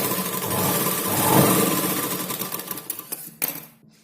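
A sewing machine stitches blouse fabric to its lining in a steady, close, rapid mechanical run, then slows into a few separate clacks and stops near the end.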